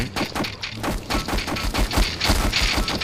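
Rapid gunshots from the video game Plague pound continuously in a dense, loud barrage, with shots overlapping in quick succession throughout.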